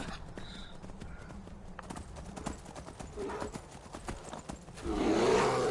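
A red Daedric horse in the Skyrim video game, hooves clip-clopping in a steady walking rhythm, fairly close, with a brief whinny and a louder rustle near the end.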